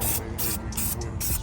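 Aerosol paint spraying red onto a small brake caliper, heard as repeated close, loud hissing bursts of about a quarter second each, separated by short pauses.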